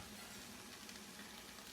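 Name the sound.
hot dog fried rice sizzling in a pan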